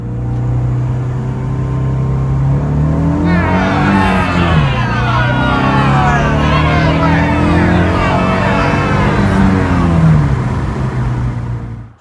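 A PT Cruiser GT with a 2.4 turbo engine accelerates hard, its loud, close engine note climbing and falling through gear changes over several seconds, with voices speaking over it.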